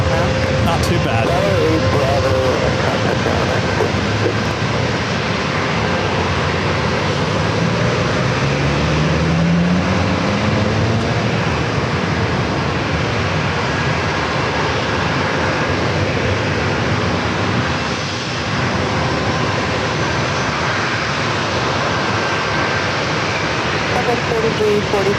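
A JetBlue airliner departs San Diego airport with a loud, continuous broadband engine roar that fills the whole stretch, steady and close, with a voice talking over it.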